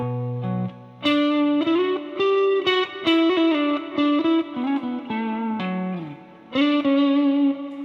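Electric guitar plays a melodic line in double stops with distortion, chorus and reverb, sustained bent notes and short phrases, loud and alone.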